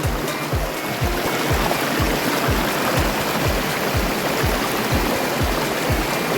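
Water rushes continuously through a slippery bush creek crossing near Wentworth Falls, a steady close broadband flow with a faint regular low thumping underneath and no voices.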